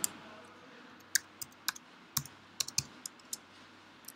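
Computer keyboard typing during a Raspberry Pi Python tutorial, a dozen sharp key clicks in an irregular rhythm, close and clear over a quiet background.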